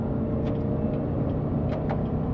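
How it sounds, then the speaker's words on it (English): A Chevrolet Corvette C7 with a 6.2L V8 and MBRP dual split rear axle-back exhaust pulls away gently through the gears, a steady, fairly soft low rumble with no talking. "Let's do a nice pull-away right now. We're just gonna go through the gears nice and easy."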